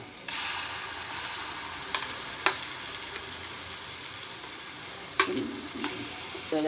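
Onion and spice paste sizzling steadily in a pan while a curry for a fresh pigeon pea amti is cooked, with a few sharp scraping clicks of a spoon stirring it through the constant frying hiss.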